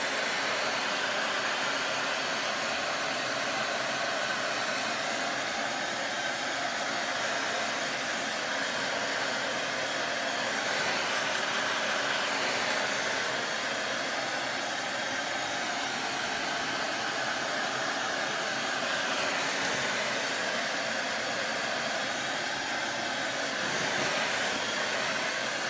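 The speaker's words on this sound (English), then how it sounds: "my blow dryer and dry this." A blow dryer runs steadily to dry chalk paint on paper, a loud, continuous whooshing hiss close by that holds for the whole stretch with only slight shifts as it is moved.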